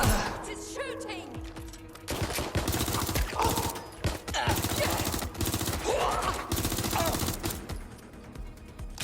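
Video game gunfire from Watch Dogs: Legion crackles in loud, rapid bursts and sustained automatic volleys, with thuds and a voice calling out amid the shooting.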